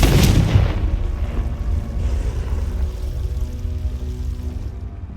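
A Confringo spell blast in the Hogwarts Legacy video game: a heavy booming burst at the start that rolls off into a long low rumble and fades over several seconds.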